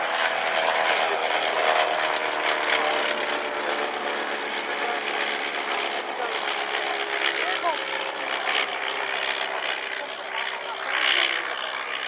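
Sopwith Triplane, a WWI-era propeller biplane type, droning steadily overhead at a heritage airshow, its engine note continuous and moderately loud throughout, with faint background voices and crowd sound underneath.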